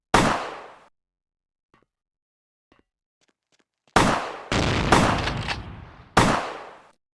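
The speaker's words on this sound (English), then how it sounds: "try to shoot with that shotgun" Shotgun blasts in Vampire: The Masquerade - Bloodlines, one sharp shot, then a quiet gap with faint clicks, followed by a quick cluster of three or four loud booming shots, each decaying briefly.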